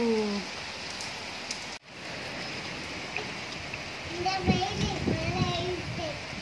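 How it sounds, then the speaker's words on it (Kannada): Heavy rain pours steadily as a dense, even hiss close by, with a brief dropout partway through, and children's voices and chatter come in over the downpour near the end. "ಮಳೆ ಜೋರಾಗಿ ಬೀಸ್ತಾ ಇದ್ದಾರೆ."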